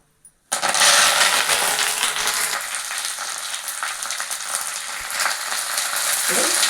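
Curry leaves drop into a hot pan with tamarind, bursting into a sudden loud crackling sizzle that continues steadily with occasional pops and stirring scrapes, no talk over it.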